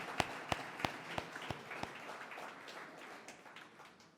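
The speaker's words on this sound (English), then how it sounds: "that certainly deserves a round of applause for sure" An audience at a hall of fame induction ceremony claps, with a few sharp, evenly spaced claps standing out before the applause fades into a softer wash.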